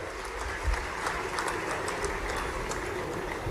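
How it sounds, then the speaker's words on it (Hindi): A crowd claps steadily for Prime Minister Narendra Modi at an outdoor political rally in Khargone, Madhya Pradesh. The applause is a dense, continuous patter of many hands at moderate volume, without clear gaps. "यशस्वी प्रधानमंत्री नरेंद्र मोदी जी के लिए जोरदार तालियां बजाओ,"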